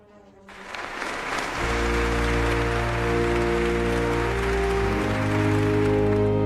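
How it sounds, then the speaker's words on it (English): A large audience in a hall applauding a king addressing Congress: clapping swells within the first two seconds into sustained, dense applause that holds loud and steady, with a low hum running beneath it. "Why are they clapping so much for him?"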